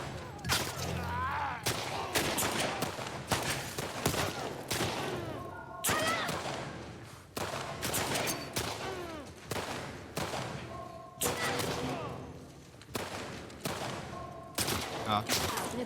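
Gunfire in The Last of Us Part 2 Remastered: a steady run of sharp shots and bursts, loud and close, one after another across the whole stretch with a few quieter gaps, game music and effects underneath.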